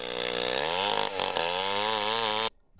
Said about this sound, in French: c'est le bruit assourdissant des tronçonneuses